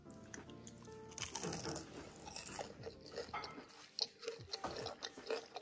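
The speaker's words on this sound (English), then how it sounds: "Listen to the crunch." Crisp crunching bites into fried fish, several sharp crackles close to the mic over background clatter and a busy home kitchen.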